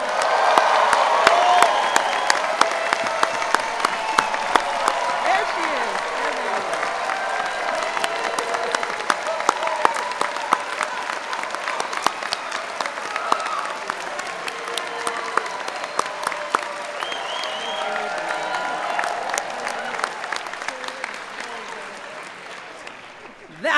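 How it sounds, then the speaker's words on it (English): At a college presidential inauguration, a large audience claps and cheers in welcome, sustained loud applause with whoops and sharp individual claps, while a voice speaks briefly over it near the start. "Hands up and clapping."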